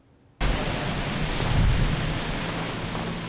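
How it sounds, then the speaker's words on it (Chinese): Strong wind and heavy rain from tropical storm Higos at a harbourfront in Hong Kong roar in as a loud, dense, continuous rush that starts abruptly and stays steady. "在西灣河海旁有狂風大雨"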